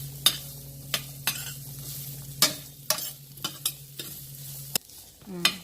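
Chopped ginger pieces fry on low heat in a pan while being stirred, with sharp utensil clacks against the pan every half second or so over a soft, steady sizzle.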